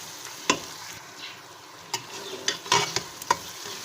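Garlic ginger paste with ground coriander fries in a pan, a soft steady sizzle broken by several close scraping clinks as a spoon stirs it, with no talk.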